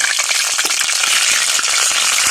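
Fish frying in hot oil in a home kitchen gives a dense, steady, close crackling sizzle, loud and continuous with no talk.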